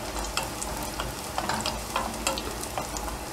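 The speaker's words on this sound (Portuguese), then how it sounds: "vamos maritar aqui um pouco o alho, para ir dando um aromazinho aqui" Garlic sautéing in olive oil gives a steady, close sizzle and crackle with occasional stirring scrapes throughout, and no voices.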